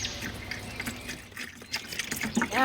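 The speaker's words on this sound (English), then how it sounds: "Now I just go ahead and fill this up." A container being filled with water for a fertilizer mix, the liquid running and splashing unevenly with small drips, close by and moderately loud, with no talk over it.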